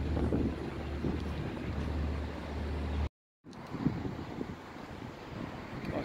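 A large ship passes on the Rhine river in Germany, with heavy wind buffeting the microphone and a steady low rumble throughout, broken by a brief dropout midway.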